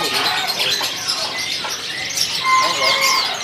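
Caged canaries chirp and trill at a bird kiosk in an Indonesian market, overlapping bright calls and whistles close by, while someone talks over them.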